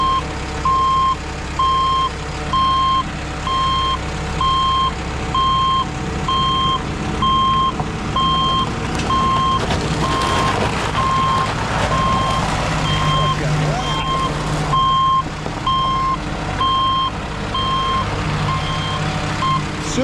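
An Isuzu concrete pump truck runs with a steady engine drone while its reversing alarm beeps in an even, repeating rhythm throughout, loud and close, with some voices faintly mixed in.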